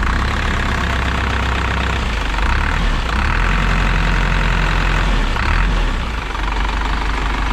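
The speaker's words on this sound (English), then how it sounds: "Motor sounds really good." An Isuzu NPR turbo diesel truck engine idles after its first start in a long while, a loud, close, steady low rumble with slight clatter and brief swells in revs.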